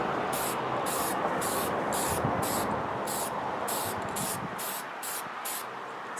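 An aerosol spray can sprays a pedestal plate in a quick series of short, even hissing bursts, about a dozen close puffs in a regular rhythm over a soft background hiss.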